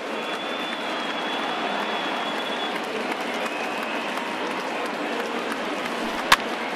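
A crowd of more than 37,000 at a Pirates vs Royals baseball game stands and cheers with a dense, sustained roar. It stays steady throughout, with a single sharp crack near the end.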